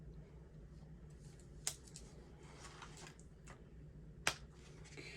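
Two sharp, crisp snips from Swiss Army knife scissors cutting twist ties on a toy figure's packaging, spaced a few seconds apart in a quiet room with faint rustling.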